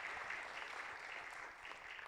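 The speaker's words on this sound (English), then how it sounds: "Round of applause." Audience applause fills a room, a dense continuous patter of many hands clapping at a moderate, fairly distant level with no voices over it.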